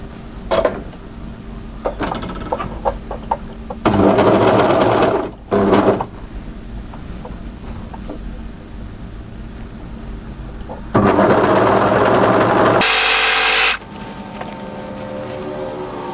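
An overlocker stitches along the hem of a sleeveless cardigan in loud bursts of steady whirring, with a longer run in the middle and pauses of quieter handling between them.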